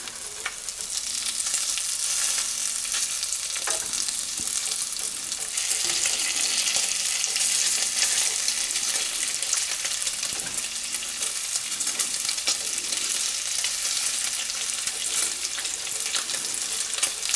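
Bacon frying in a pan, a continuous close crackling sizzle with dense popping that holds steady throughout, with occasional faint clicks and no talking.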